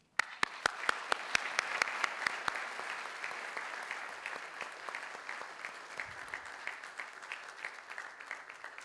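An audience at an evening lecture applauds to welcome speaker Daniel Mahoney, opening with a few loud isolated claps that swell into steady, moderately distant clapping from the room.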